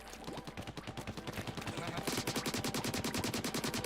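Rapid, steady ink shooting in Splatoon 2's Octo Expansion, a fast rhythmic burst of splattering shots that grows louder and denser partway through, continuing without pause.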